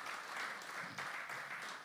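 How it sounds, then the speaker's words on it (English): Audience applause at an evening lecture, a steady wash of clapping lasting a couple of seconds, moderately distant and without voices. "You can give them a round of applause."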